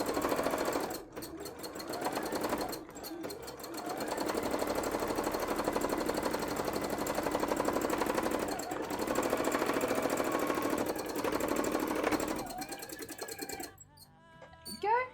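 A sewing machine stitches continuously in a cosplay workshop, a steady, fast mechanical whirr running for most of the stretch before stopping near the end, with brief pauses early on and a faint voice after it halts.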